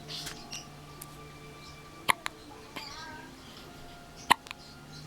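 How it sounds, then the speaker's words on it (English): A five-day-old newborn hiccups twice, each a sharp, brief squeak-like catch a couple of seconds apart, quiet and close amid soft room noise and faint rustling. "You got the hiccups?"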